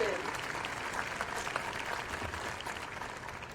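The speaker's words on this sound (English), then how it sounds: "give a round of applause to yourselves" At a new student college convocation, an audience applauds with a dense, even patter of many hands that sounds somewhat distant and fairly quiet.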